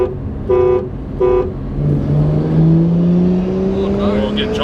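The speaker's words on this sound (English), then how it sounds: "First we got to get to 40, so I'll be in second gear." A Holden Commodore SV6 accelerating in second gear, preceded by two short horn-like toots, then a steadily rising engine note that climbs in pitch over several seconds, close and fairly loud.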